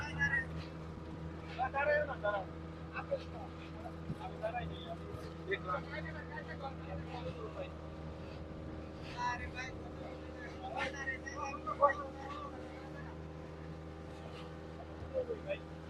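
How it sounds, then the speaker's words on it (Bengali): Speedboat racing fast across the sea from Cox's Bazar to Maheshkhali, a steady low engine hum and droning motor with water and wind noise beneath people talking throughout. "সাগরের স্পিড বোট স্পিডে প্রচুর স্পিডে চলতেছে রে।"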